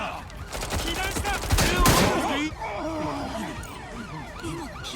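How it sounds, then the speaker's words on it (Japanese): Gunfire bursts in the video game Watch Dogs Legion, a dense fusillade of shots peaking loudest mid-clip before trailing into scattered sounds and background noise. "銃声を聞いたが避難した。"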